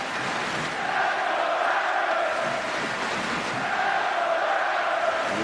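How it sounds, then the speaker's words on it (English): A basketball arena crowd at an NBA Warriors vs Raptors game roars continuously in a broad, sustained wash of cheering, steady and loud from start to finish. "Al Harrington, 20 points, and you hear the crowd here"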